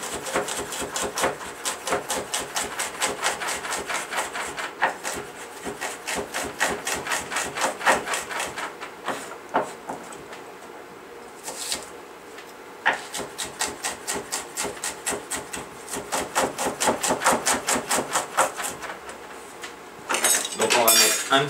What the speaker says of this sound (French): Donc les échalotes, on va les émincer